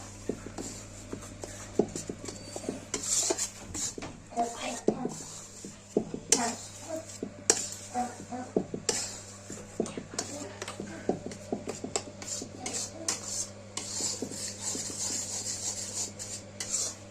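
Puffed rice for ladoo is stirred in a pan, giving steady close scraping and light metallic clinks that continue throughout, over a low background hum.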